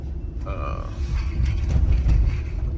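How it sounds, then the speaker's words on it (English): A close mechanical gurgling and creaking noise from a water jug indoors, with a low rumble, rising and falling briefly, with no talking over it. "you have to excuse that noise, that's my water jug over here."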